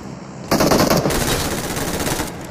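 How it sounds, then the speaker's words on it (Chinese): Automatic weapon fire in a shooter video game, a loud sustained burst of rapid shots that starts sharply and rattles on for about two seconds. "中了一枪，爆头了"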